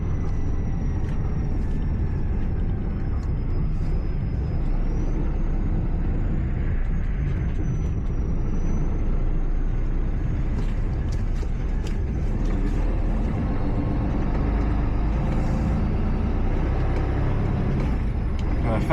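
A coach bus being driven and turned around, a steady low engine rumble with faint high whine and occasional clicks, loud and constant throughout.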